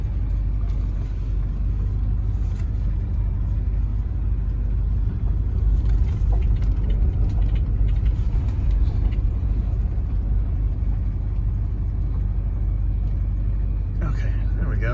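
A 1969 Cadillac De Ville backs up, its low engine rumble steady and close throughout, with a person talking over it and a brief sharp sound near the end.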